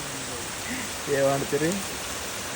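Steady rain falls outdoors with a soft, even hiss throughout. A voice briefly speaks over it.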